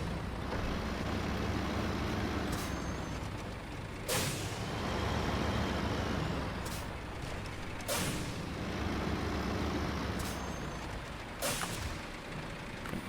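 Diesel truck engine idling steadily in SnowRunner, a continuous low rumble with a few sharp air-brake hisses and mechanical clanks recurring every few seconds.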